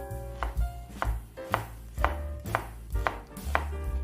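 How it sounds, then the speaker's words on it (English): A knife chops an onion into medium-thick half rings on a cutting board, seven or eight sharp, evenly spaced cuts ringing out close and clear with no voices. "Chop the onion into medium thick half rings."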